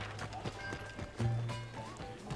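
Horse hooves from Red Dead Redemption 2, a soft irregular clip-clop of a ridden horse at a run under game music and ambience, faint and fairly close, with no voices.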